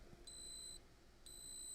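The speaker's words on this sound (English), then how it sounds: "you may be able to hear a beeping sound" A PC power supply feeding an MSI GeForce RTX 5090 Lightning graphics card gives two sustained high-pitched warning beeps separated by a short gap, faint over a low background hum.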